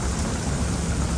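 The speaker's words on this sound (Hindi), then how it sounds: "यार बारिश काफ़ी तेज़ हो गई है" Heavy rain pours at Manora beach in Karachi, a dense, loud, continuous hiss with no pauses.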